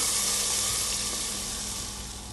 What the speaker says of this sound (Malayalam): ഇനി വറവ് കറിയിലേക്ക് ചേർത്ത് കൊടുക്കാം.